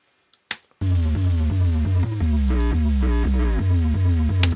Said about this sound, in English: it's some kind of square bass again, with a bit of glide and portamento on it